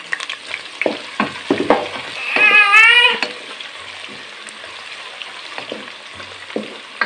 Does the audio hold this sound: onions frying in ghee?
yes